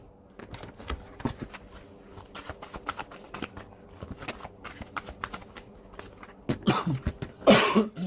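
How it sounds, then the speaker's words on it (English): Soft scattered tapping and rustling, then a few harsh, close coughs from a person with bronchitis erupt near the end, the last burst the loudest. "I'm sorry for the coughing."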